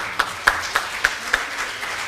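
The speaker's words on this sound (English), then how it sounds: "So let's clap for the following students." Scattered hand claps from a small audience at a summer tech camp closing ceremony honoring students, about five sharp claps spaced unevenly over two seconds, thin and moderately near with no full applause swell.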